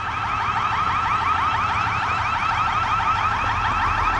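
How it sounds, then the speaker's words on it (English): A car alarm wails continuously in a rapid, repeating electronic warble, loud and steady throughout with a low hum underneath. "Freaking alarms."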